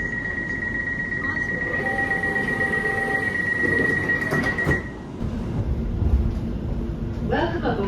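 A South Western Railway train to London Waterloo rumbles steadily at Weybridge while a long, high door-closing warning beep sounds. A door thuds shut and the carriage hum carries on.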